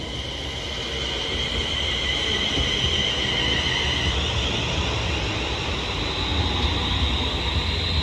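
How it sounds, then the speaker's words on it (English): A Class 350/2 electric multiple unit pulls into Acton Bridge station on the West Coast Main Line, its steady rolling rumble and a high squealing brake whine filling the whole span close by, with no talk. "this 350 just arrived into Acton Bridge now with the 1349 London North Western Railway service to Liverpool Lime Street"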